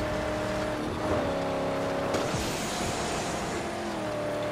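A car races in the Mad Max video game, its engine droning steadily at close range with shifting revs, a brief tire squeal and a sharp impact partway through.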